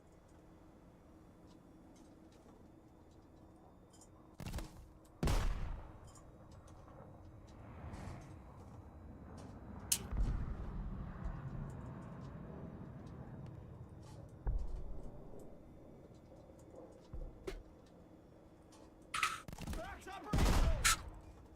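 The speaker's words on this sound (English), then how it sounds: "Machine gun ready for action." Machine gun fire in War Thunder, scattered sharp bursts and single cracks over a low engine rumble, with brief radio-style voice lines.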